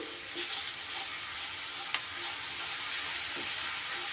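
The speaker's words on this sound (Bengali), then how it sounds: "আদা বাটাটা কিন্তু তেলের মধ্যে দিলে ছেটকাতে পারে, একটু সাবধানেই দিতে হবে, গ্যাস কমিয়ে নিয়ে" Ginger paste sizzling and spitting steadily in hot oil in a pan, a continuous bright crackling fry at moderate loudness with a few small pops, no voices.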